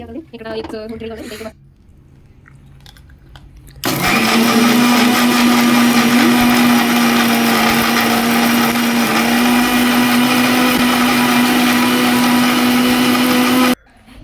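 Kitchen mixer grinder grinding masala spices with coriander seeds for egg curry, starting abruptly after a few seconds of quiet and brief talk, then a loud steady motor whine held for about ten seconds before cutting off.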